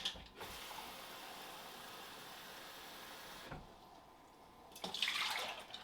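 Three cups of water are poured into a bowl, a steady splashing rush that stops briefly and then resumes with a brighter, louder burst near the end, close by and without talk.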